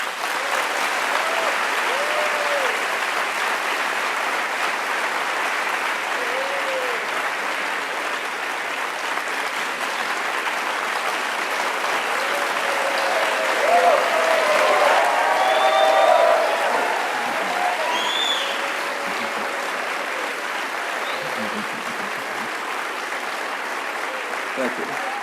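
Audience applause welcoming Noam Chomsky at a lecture on power and ideology, a steady, sustained crowd clapping that fills the hall for the whole stretch, swelling slightly near the middle before settling.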